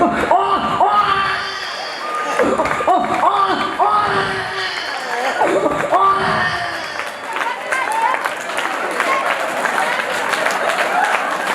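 A live comedy show audience breaks into loud, sustained applause and cheering, dense clapping and shouts rolling on and off over several seconds with some voices rising above the crowd.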